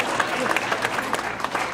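Brief burst of audience applause at an awards-night comedy bit, dense and continuous clapping from a crowd lasting under two seconds.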